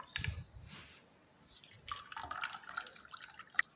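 Kulfi mixture poured into small tumblers, with soft dripping, splashing and liquid trickles close up, a few brighter clinks of the vessel near the end.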